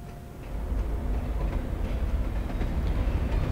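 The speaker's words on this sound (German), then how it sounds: "Da oben fahren anscheinend sogar noch Züge." A train in the Alan Wake video game rumbles past as a steady, loud, low roar with faint rhythmic clatter, continuous throughout with no talking.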